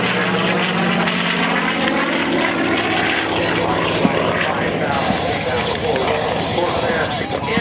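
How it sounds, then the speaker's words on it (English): A WWII Corsair propeller fighter roars through a display at an air show battle reenactment, its engine drone loud, steady and near for the whole stretch, with talk audible alongside. "Watch now as the nose comes up in the Corsair."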